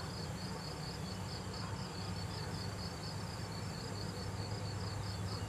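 Mason bees stir inside their nest chambers in early spring, making a faint, continuous insect buzz and hum with no voices present.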